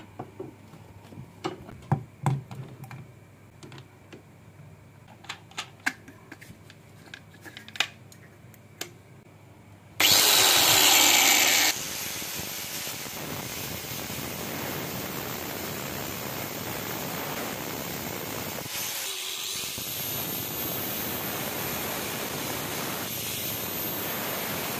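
An angle grinder cuts a groove into a piece of old, used wood held in a clamp. A few seconds of quiet handling clicks come first, then a loud, steady, hissing grind runs to the end.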